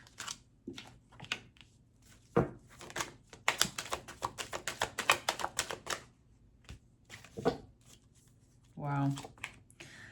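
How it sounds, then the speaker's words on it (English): Tarot cards being shuffled in crisp, rapid riffling bursts, with a few taps and brief pauses, close and clear; a short voice sounds near the end. "And I shuffle my deck in between every sign."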